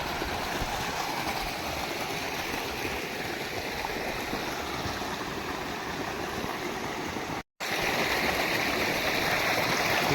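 A stream flowing over stones at a waterfall site, a loud, steady rushing wash of water that continues unbroken apart from a momentary cut near the end.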